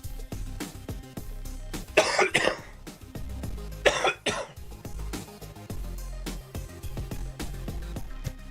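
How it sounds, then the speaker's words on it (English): Two harsh, loud coughs, a couple of seconds apart, stand out over a low, steady background rumble. "I've been waiting to see if I could cough anything up today"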